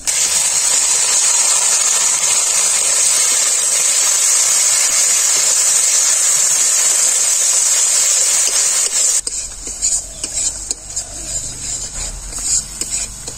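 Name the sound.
boiled ground spinach paste frying with spices in a pan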